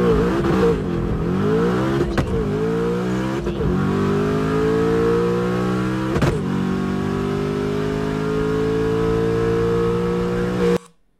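A twin-turbo 2019 Ford Mustang Bullitt launches on a drag run, its engine climbing in pitch through several hard upshifts, each marked by a brief dip, loud and close before cutting off abruptly at the end.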